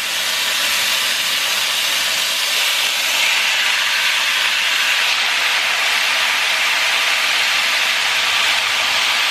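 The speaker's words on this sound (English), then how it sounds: "I'm gonna go ahead and put my meat to cook" Carne asada meat for nachos sizzles loudly in hot oil as a dense, steady hiss that stays constant throughout without pause or voices.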